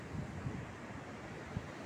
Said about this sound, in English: The thundering sound of the waves is mesmerizing.